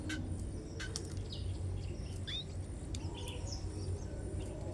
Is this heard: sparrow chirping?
yes